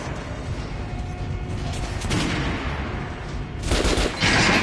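Video game gunfire aimed at an armored training dummy: rapid bursts of shots with metallic mechanical clatter, growing louder and denser toward the end, with no voices.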